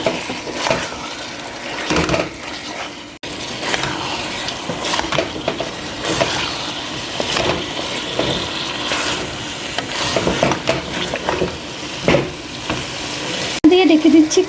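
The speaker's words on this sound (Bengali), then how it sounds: "আমি এখানে 2 কেজি মাংস অ্যাড করতেছি" Two kilograms of beef sizzle and fry in a pot for haleem, a loud, steady crackle broken by bursts of stirring and scraping, with a quiet voice now and then.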